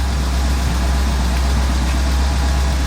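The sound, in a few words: 1984 GMC truck engine running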